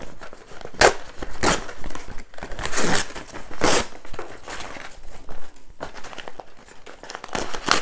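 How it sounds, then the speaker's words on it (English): Tear-away embroidery stabilizer is ripped off a machine-embroidered in-the-hoop Christmas treat bag in a series of sharp, close tearing bursts with brief pauses between them. "I'll have to do just rip it out because it's a tear away"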